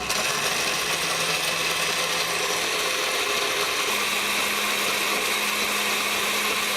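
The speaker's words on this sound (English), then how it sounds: "it's blender time" A blender whirs steadily and loudly with a sticky toffee pudding mixture inside, a constant motor drone holding the whole time, no voices.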